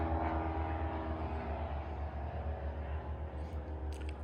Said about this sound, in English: And we got another plane going overhead,